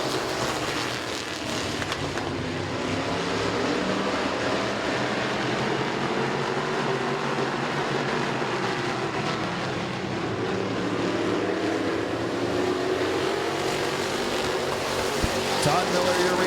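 Stock race cars circling the track during a heat race at Midvale Speedway, a continuous distant engine roar that holds steady throughout, with a track announcer's voice running over it.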